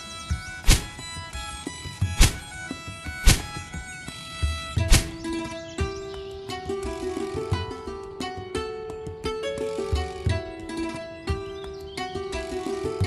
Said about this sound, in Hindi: मेरे हिसाब से यही पेड़ ठीक रहेगा, चलो इसे ही काट लेता हूँ।